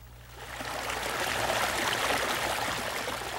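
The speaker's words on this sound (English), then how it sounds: "Water trickling through a beaver dam, a familiar sound in the north" Steady water trickles and splashes through a beaver dam, a continuous bubbling rush that swells slightly and holds.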